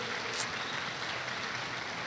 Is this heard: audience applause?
yes